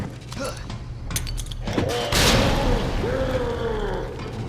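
A grenade blast in the Resident Evil 2 video game: a sharp boom midway through amid creaking, mechanical game sounds, followed by rolling low rumble and a groaning sweep, loud and close.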